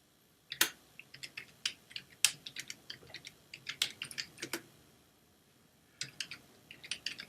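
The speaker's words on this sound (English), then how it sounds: "I'm just going to type in" Quiet typing on a computer keyboard: irregular clusters of light key clicks, pausing for about a second before a few more taps, close and alone with no talking.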